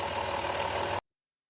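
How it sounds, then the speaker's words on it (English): A Dodge Grand Caravan engine idling after a water pump replacement, a steady mid-pitched hum running evenly for about a second before it abruptly cuts to silence as the engine is switched off. "So what I'm going to do is shut the engine off now"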